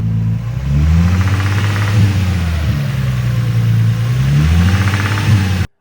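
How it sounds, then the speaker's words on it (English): Nissan 350Z engine suspected of rod knock or a noisy timing chain tensioner, revving up and settling back twice, loud and close with a steady engine drone and a faint rapid ticking underneath. "I don't know if it's a rod knock or if it's just the timing chain tensioner"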